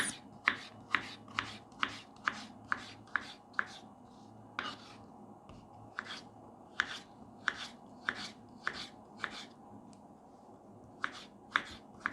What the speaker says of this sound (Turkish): patatesimizi de aynı şekilde küp küp doğrayalım